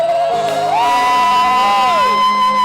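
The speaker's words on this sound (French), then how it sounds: "Continue à pousser des cris de joie et acclamer." A church congregation at a praise and worship service shouts with joy and cheers, a loud sustained crowd roar with rising whoops and sung-out cries, close and continuous.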